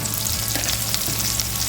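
Chillies and curry leaves crackle and sizzle loudly in hot oil in a village kitchen, a dense continuous frying hiss heard up close with no voices over it.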